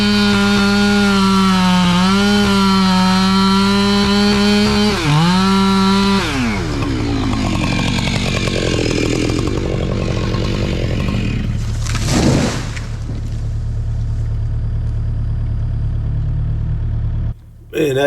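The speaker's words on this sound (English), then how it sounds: "It's a 32-inch bar X-cut chain on that saw, full chisel" A chainsaw with a 32-inch bar and full chisel chain roars at high revs, its pitch dipping as it bites into a big white oak, then shifts to a rougher grinding cut before idling down.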